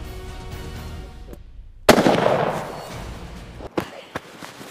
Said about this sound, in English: That was a good shot, too.